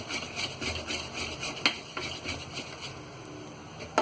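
Cake batter with dry fruits mixed in being stirred in a bowl, giving a steady, soft scraping and sloshing with a few sharp clinks of spoon against the bowl, close and fairly quiet, with no talking.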